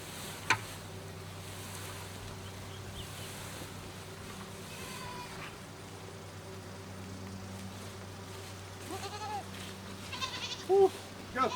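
Goats on a homestead bleat now and then while being herded into a chute built from cattle panels, faint calls over a low steady background hum, with a few louder bursts near the end.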